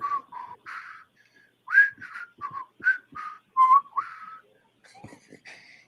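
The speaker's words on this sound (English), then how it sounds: "He's whistling while he's walking." A man whistles a tune while walking, a string of clear, close melodic notes with brief pauses between phrases.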